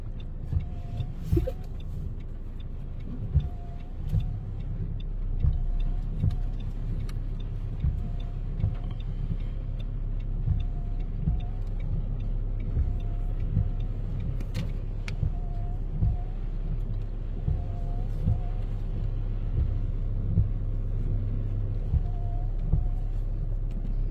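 A manual-gearbox car reverse parallel parking on the left side behind a white car: a steady low engine rumble runs throughout with soft, regular clicks of an indicator on top, no talking.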